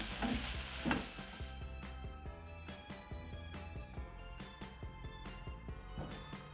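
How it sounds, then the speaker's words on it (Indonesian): Grated coconut for serundeng stirred in a pan as it cooks, a spatula scraping in a steady rhythm over a soft continuous sizzle, close and alone with no voices. "sekarang kita aduk ya sampai tercampur rata dan kita masak sampai matang dan kering"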